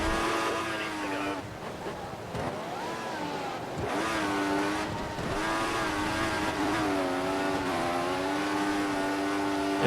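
Formula 1 car in the F1 2014 video game held at full throttle, a high wailing engine note rising and falling with gear changes, steady and continuous over about ten seconds.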